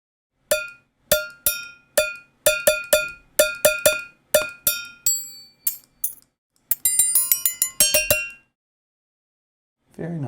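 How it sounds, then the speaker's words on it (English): Bells and shakers from the Ferrum trailer percussion plugin ring out as a rhythmic pattern of bright, crisp metallic hits with short decays, ending in a denser, jangling flurry of clinks, heard alone. "Let's see, bells and shakers."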